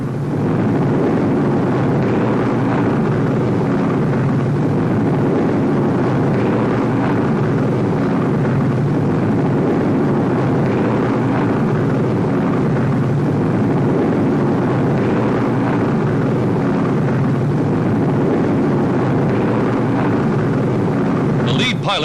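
RAF bombers skimming low over the Dutch countryside toward the Eindhoven radio works in 1943 produce a constant heavy, rushing engine roar, loud and unbroken, with a narrating voice likely over it.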